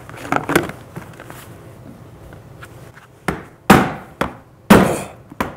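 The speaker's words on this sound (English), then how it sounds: "And you want to use a rubber mallet, not a hammer." A rubber mallet hammers a lid shut, giving several sharp, separate thuds in an uneven rhythm, close and loud, after a short stretch of quiet handling and a little background talk.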